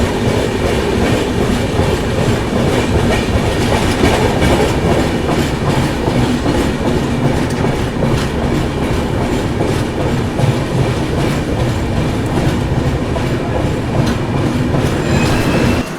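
A passenger train on the Chennai to Kolkata run, rolling on the rails with a loud, continuous rumble and a faint repeating clickety-clack from the wheels, heard from on board.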